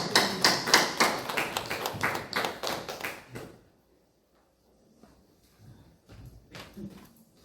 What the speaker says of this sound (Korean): 우리 장성덕 목사님 나오실 때에 우리 큰 소리로 박수로 할렐루야로 맞이해 주시길 바랍니다